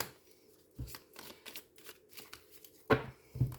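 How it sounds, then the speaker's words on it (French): Tarot-style playing cards drawn for a reading, faint soft slides and taps of cards handled on a table, a few separated flicks with quiet gaps between. "Allez, on prend 3 cartes."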